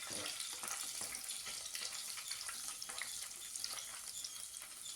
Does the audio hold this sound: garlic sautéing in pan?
yes